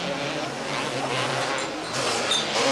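Two-stroke racing quads, one with a high-tech 55-horsepower motor, roar past at a race event in Washington, a loud continuous engine drone with revving swells throughout.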